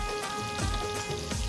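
Rain falls steadily at a parking area, a dense hissing patter close by with a few heavier splashes recurring through the short stretch.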